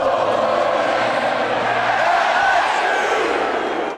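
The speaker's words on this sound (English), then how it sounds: "As the crowd swells toward capacity, the band whips the Tiger fans into a frenzy" Tiger Stadium crowd of LSU fans roaring steadily as the stands fill, a dense continuous wash of cheering and yelling with band sound mixed in, loud and sustained throughout.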